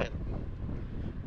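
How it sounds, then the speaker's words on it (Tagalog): Wind blowing steadily against the microphone outdoors on a walk through a city street in Croatia, a constant low rumble and buffeting for about a second. "Sa hangin."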